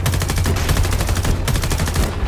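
Loud, rapid automatic gunfire in Homefront: The Revolution, a continuous close burst of evenly spaced shots with a brief pause before it resumes.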